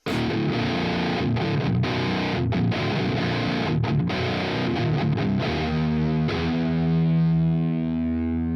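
A high-gain distorted guitar pitch-shifted down on a Quad Cortex, playing a tone recreation, chugs loud and dense with choppy palm-muted stops, then rings out into a sustained low chord, no voices.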